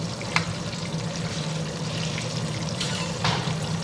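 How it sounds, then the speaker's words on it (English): Curry leaves fry in hot oil, butter and ghee while butter chicken is being cooked, giving a steady, close, dense sizzle and crackle with a few sharper pops. "you can actually make out when the curry pata starts frying."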